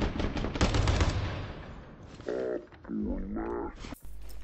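A sharp gunshot in Rainbow Six Siege, part of a brief burst of shots early on, followed by a grunting voice and other game sounds.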